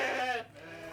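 A single sheep on a Norwegian farm gives a loud, close, wavering bleat that fades within half a second into quiet outdoor background.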